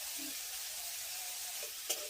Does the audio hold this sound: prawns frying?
yes